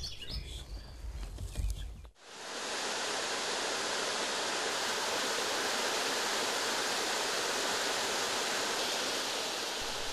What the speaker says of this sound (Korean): 시원한 물소리가 귀는 물론 가슴까지 서늘하게 한다